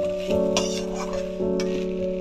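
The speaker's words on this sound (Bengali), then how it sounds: "সয়াবিনটা দেওয়ার পরেও আমি সুন্দর করে আবার মিশিয়ে নেব।" Soybeans being stirred into a spice paste with a utensil, giving soft scraping and a few light clinks against the pan, close and steady over a sustained humming tone, with no speech.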